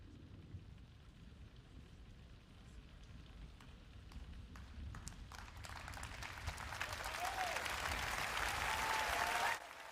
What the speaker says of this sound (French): Il applaudit.